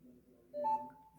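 A Samsung Galaxy Watch 7 dewdrop notification plays once, a soft quick pair of clear electronic droplet tones that ring briefly and fade, quiet and alone.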